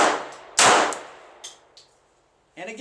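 A Glock pistol fires at steel targets: one loud shot with a ringing clang, followed by fainter metallic pings as the steel keeps ringing, then a brief clatter at the end.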